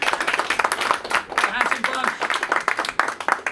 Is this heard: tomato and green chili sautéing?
no